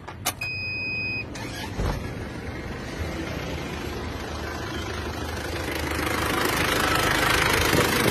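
An Isuzu Panther engine with heavy oil consumption cranks and starts with a short beep and clatter, then settles into a steady idle that grows slightly louder toward the end.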